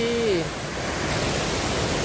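The Tad Khu waterfall near Pakxong in Laos roars with a dense, unbroken rush of falling water close by. A voice is heard briefly at the start.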